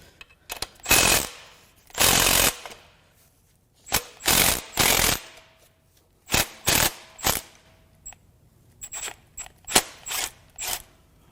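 A power tool zips bolts out of a destroyed Subaru EJ20X turbo engine during a teardown, firing in several loud, close ratcheting bursts of about a second each, separated by short pauses.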